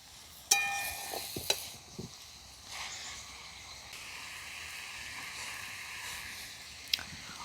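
Spices with chopped green chilli, salt and turmeric sizzle in a very hot karai for chicken stew, a steady frying hiss broken by sharp clinks and scrapes of stirring.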